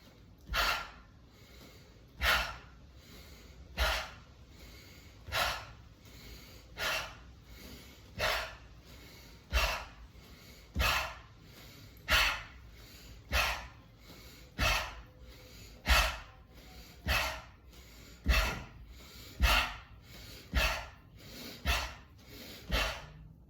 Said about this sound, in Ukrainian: І це все з видихом та ступотінням п'ятами у підлогу.